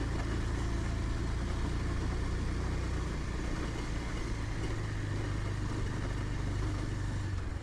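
A motorcycle rides a rough road, its engine a steady, loud drone close by, with no speech over it.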